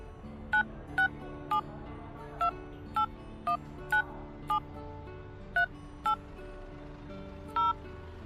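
Mobile phone keypad tones sound as a number is entered and saved, about a dozen short electronic beeps pressed at an irregular, unhurried pace over a quiet background.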